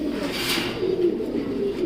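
Racing pigeon cooing in a low, continuous murmur close by, a steady soft warble sustained throughout without pause.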